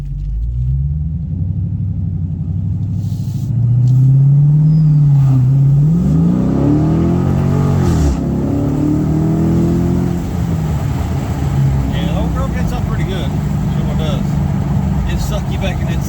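A muscle car's engine rumbles deeply and climbs in pitch as it accelerates hard, loud and close from inside the car.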